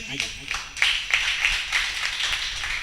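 An audience at a Hindi comic poetry gathering (kavi sammelan) claps for the poet Sarjan Sheetal. The clapping is close and uneven, with a cluster of sharp hand claps over a few seconds, and voices sound beneath it.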